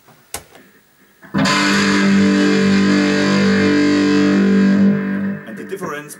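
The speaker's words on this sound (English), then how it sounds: "Now I go to a heavy metal sound." A loud, heavily distorted electric cello note through a humbucker pickup holds steady for about three and a half seconds with a thick heavy-metal growl, then cuts off.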